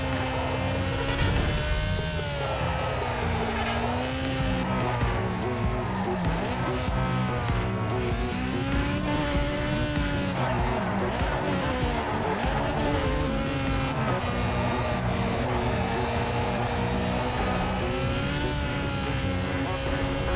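A car drifting in Need for Speed Carbon (Redux mod), with a loud, steady engine roar and sustained tire squeal through long slides, the engine pitch rising and falling as the drift continues.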